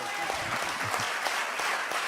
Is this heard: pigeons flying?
no